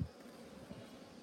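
Honey bees buzzing around brood inside an opened hive, a faint, low, steady hum that lasts about a second.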